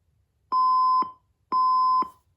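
Two identical electronic beeps from an alarm clock, each lasting about half a second, a second apart, a loud pure tone in quiet surroundings.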